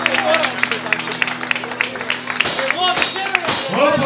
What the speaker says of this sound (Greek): Ένα μεγάλο χειροκρότημα στον κύριο Πούπη.